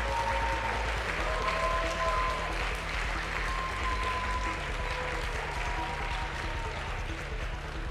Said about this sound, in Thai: ได้ร่วมกันแสดงความยินดีโดยช่วยกันปรบมือให้ดังนะครับเป็นการเฉลิมฉลองครับ